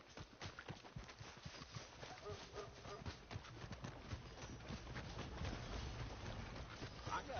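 Horse hooves clip-clopping steadily in Red Dead Redemption 2, a quick regular rhythm of soft thuds under wind and ambient noise, fairly faint and continuous.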